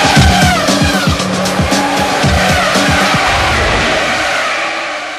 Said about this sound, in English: The cars are moving out of the pits.